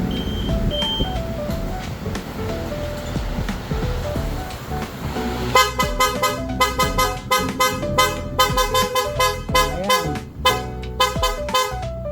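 Loud repeated horn blasts in short bursts, a replacement horn on a VOGE SR150GT motorcycle honked again and again over a steady background rumble.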